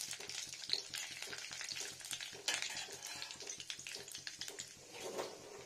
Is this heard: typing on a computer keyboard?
no